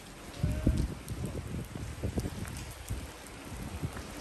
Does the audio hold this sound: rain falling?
yes